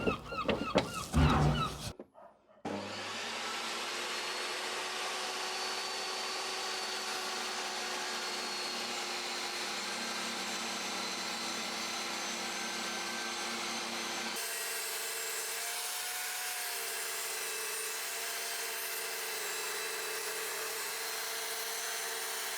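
A Rutlands R1618 table saw runs with a dust extraction hose attached, starting after a brief clatter and then holding a loud, steady motor whir with a noticeable shift in tone partway through the cut into wood.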